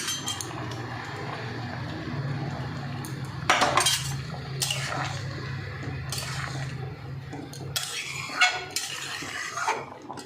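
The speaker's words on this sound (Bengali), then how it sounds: "নুন হলুদ দিয়ে ডালটা আমি একটু নেড়ে দিয়ে কয়েকটা কাঁচা লঙ্কা দিয়ে দেবো" Dal with salt and turmeric is stirred in a pot, heard as a handful of faint utensil scrapes and clinks against the pot over a steady low background hum.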